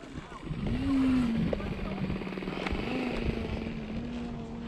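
Electric motor of an E-flite Apprentice S 15e RC plane running up on a thick grass field, a steady propeller whine that climbs and holds over outdoor background noise.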